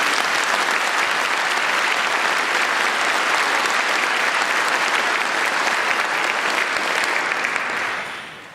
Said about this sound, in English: we really owe them a big round of applause